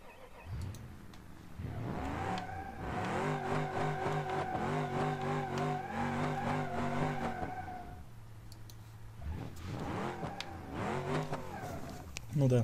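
Off-road 4x4 car stuck on a steep mountain climb in BeamNG Drive, its engine revving in long rising and falling bursts with a brief lull before another surge.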